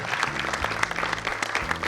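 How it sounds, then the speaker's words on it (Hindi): An audience at a staged play claps steadily, a dense patter of many hands at moderate loudness with no voices over it. "तो आप सभी के लिए जोरदार तालियां यहाँ पर।"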